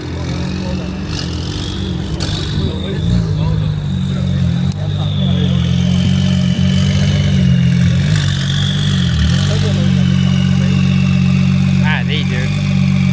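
Turbocharged Honda NSX on air suspension idling at a car show, a steady low engine rumble close by, with crowd chatter and people talking over it.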